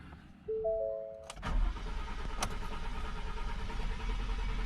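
A 2016 Ford F-150 with the 2.7 EcoBoost engine, after injector O-ring work, cranks briefly and catches, then settles into a steady idle, heard up close at moderate loudness.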